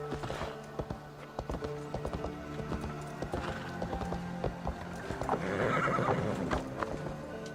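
Hooves clip-clop on the ground and a horse neighs loudly in Assassin's Creed Valhalla, with game sounds and effects layered underneath.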